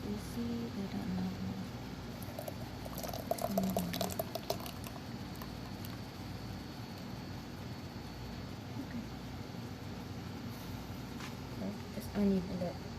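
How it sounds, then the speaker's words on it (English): Distilled water poured onto blueberries while making handmade artisan soap, a soft liquid trickle with brief splashy bursts near the start, under steady room noise. "So we're adding the water to the blueberries."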